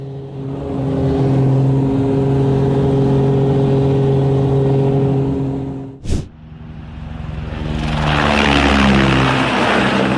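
Racing airplanes fly a high-speed air slalom course through air gates. A loud propeller engine drones steadily, dips sharply as a plane whips past, then returns with a rushing roar.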